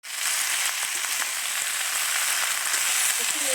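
Vegetables such as aubergine and radish fry in spiced masala, a loud, steady sizzle with faint scraping as they are stirred through the pan, with no talking.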